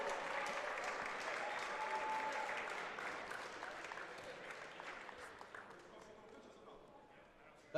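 Sustained crowd applause fills a college men's basketball gym during player introductions, a dense steady roar of clapping that gradually thins toward the end, with a voice over the public address faintly beneath.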